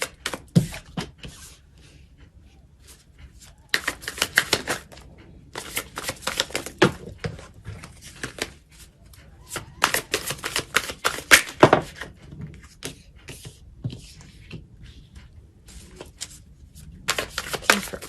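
Tarot cards being shuffled in a run of crisp, riffling bursts and light slaps, moderately close and alone, with short pauses between handfuls.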